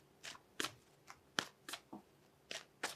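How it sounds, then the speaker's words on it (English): Tarot cards are shuffled in quick bursts, about eight crisp riffling flicks spaced irregularly, close and fairly soft with no talking. "I'm going to pull one more card here."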